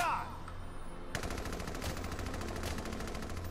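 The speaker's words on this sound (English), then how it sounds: "Open fire, Scott." Rapid machine-gun fire from the video game Valkyria Chronicles 4 sounds as a sustained burst of fast repeated shots, loud and dense, starting sharply after a brief moment and continuing to the end.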